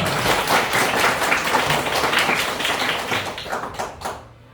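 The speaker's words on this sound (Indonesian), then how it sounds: "Tepuk tangan untuk kita semua" A primary school class claps hands together, many small palms tapping in a dense, fairly quick patter that stays steady and then stops abruptly at the end.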